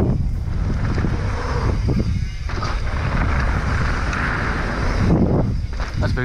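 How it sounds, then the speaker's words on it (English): Wind buffeting the microphone at Big Bear mountain bike park, a loud, continuous low rumble and rush with brief dips, heard up close and without speech. "Oh, the wind."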